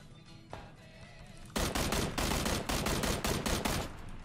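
Automatic gunfire from the battle royale video game PUBG, with rapid loud bursts and volleys starting abruptly after a quiet opening and continuing in quick succession.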